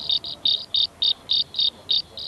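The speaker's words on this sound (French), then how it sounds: "Les cigales chantent, les brocanteurs déchantent." Cicadas chirp in Provence in a steady rhythmic series of short, bright pulsing buzzes, about four per second, loud and close with no voices.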